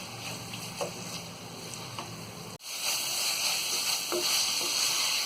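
Minced meat keema fries with added yogurt in a pan, sizzling steadily up close with occasional stirring scrapes and a brief dip in the hiss partway through.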